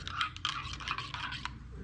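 A spoon stirs instant coffee in a cup, giving a close, quiet series of light scraping and clinking strokes in an uneven rhythm, with no voices.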